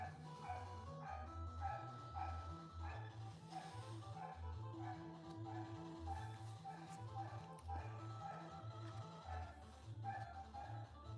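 Intermittent barking and yipping from several dogs rises faintly over a rhythmic, pulsing background music loop, with no voices alongside.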